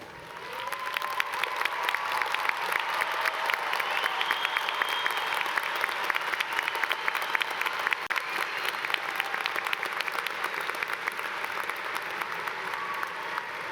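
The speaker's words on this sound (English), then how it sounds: "will everyone give these students a round of applause?" A large commencement crowd applauds graduating students receiving Latin honors, a dense, sustained roar of clapping lasting well over ten seconds, with faint cheering mixed in.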